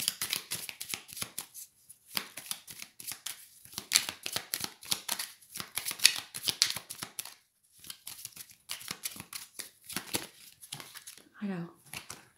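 Oracle cards being shuffled by hand in a steady run of dry, papery riffles and flicks, close and fairly quiet, pausing briefly before another burst, with a low voice heard now and then.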